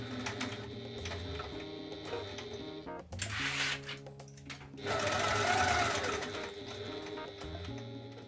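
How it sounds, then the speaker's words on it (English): A sewing machine fitted with a zip foot stitches a fabric phone bag, running in close, loud bursts of rapid mechanical whirring with brief pauses and speed changes between runs. "use a zip foot to get really close to the stabilizer"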